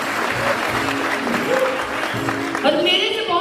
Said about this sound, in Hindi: मैं चाहूंगी जोरदार ताली बजा दीजिए इसके लिए।